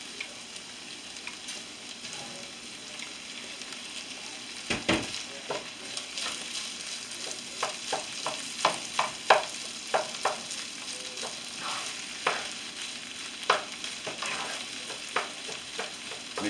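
Rice with chicken and vegetables sizzles steadily in a hot pan while a utensil scrapes and clacks against the pan in irregular, fairly close strokes as everything is stirred.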